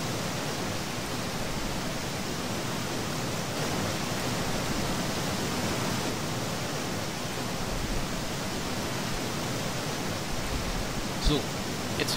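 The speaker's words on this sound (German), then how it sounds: "Füllt das Fass langsam aber sicher mit Wasser." In a video game, water pours steadily into a barrel as a constant, even rushing hiss that runs unchanged from start to finish, with only a faint click near the end.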